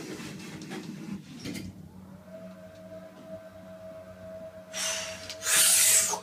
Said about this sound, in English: This motor is bad. Actually, horrible.